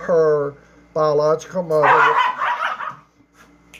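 Two household dogs scuffle, growling and yipping in a brief harsh burst while someone speaks over them at a house tour of the Lizzie Borden house.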